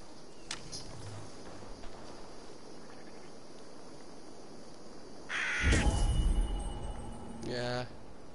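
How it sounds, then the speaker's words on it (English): A crow caws in the game Assassin's Creed Valhalla, harsh calls rising loudly in two bursts near the end over faint wind-like ambience, with someone talking. "I hear you, bird."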